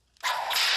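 A whip crack sound effect played from a phone app: one sharp swishing crack that starts abruptly and rings briefly, heard alone.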